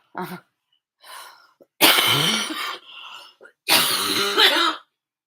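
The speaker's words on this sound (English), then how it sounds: "I still have a really bad cough." A series of harsh, hacking coughs in several loud, close bursts, separated by short gasping breaths.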